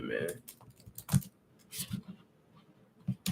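Scattered keyboard clicks and taps in uneven bursts, fairly close, with a voice talking over parts of it.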